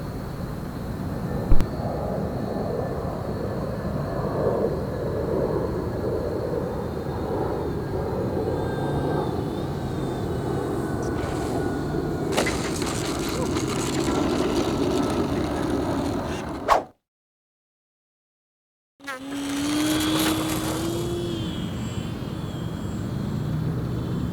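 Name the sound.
FMS Explorer radio-controlled model airplane flying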